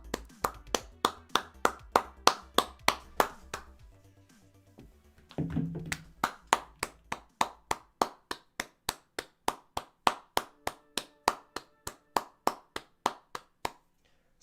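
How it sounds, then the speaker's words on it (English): Hands clap in a steady, fast rhythm, loud and close, with a brief pause partway through before the clapping resumes and carries on evenly. "Clap it in. Clap it in."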